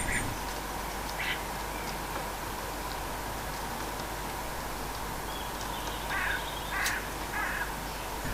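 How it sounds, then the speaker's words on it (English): Starlings squabble around a coconut on a dull day of light rain. Their short, harsh calls come in scattered bursts, mostly toward the end, over a steady hiss of rain. "This moment of peace passes quickly as the starlings return."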